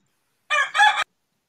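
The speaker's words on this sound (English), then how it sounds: "It's not a farm. It's a wild rooster." A wild rooster crows once, a short, clear cock-a-doodle-doo with a brief break in the middle, heard alone against silence.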